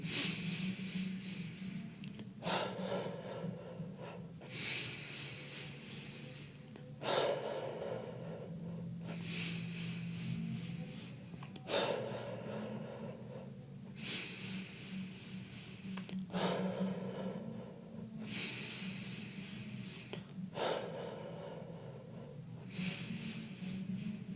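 Slow, deep breathwork breathing during a guided session, with long airy inhales and exhales repeating about every four to five seconds over a steady low hum, close and moderately loud.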